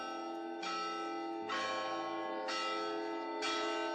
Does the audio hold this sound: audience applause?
no